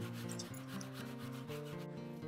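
A rasp scrapes across the underside of a wooden ukulele neck in quick back-and-forth strokes, close and dry, with no voices.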